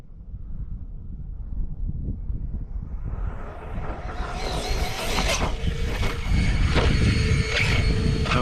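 An Arrma Kraton EXB 6S RC car on a 6S LiPo builds speed during a speed run, its whine rising steadily in pitch and loudness over wind noise and rushing air.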